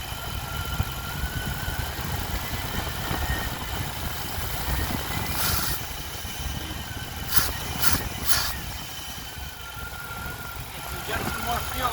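A throttle-body-injected engine with a freshly rebuilt throttle body and new regulator idles and stumbles, a steady mid-pitched rumble with a few brief bursts of higher noise as it bogs past quarter throttle.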